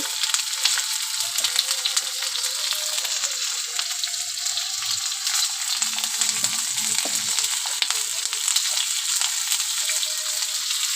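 Spices with turmeric powder and salt fry in a pan, a steady close crackling sizzle with occasional stirring scrapes, no voices.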